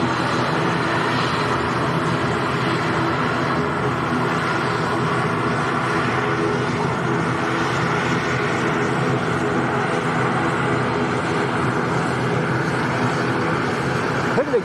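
A Eurofighter Typhoon jet roars steadily past at Lanzarote Arrecife Airport, a loud continuous engine rumble that holds for the whole stretch without fading.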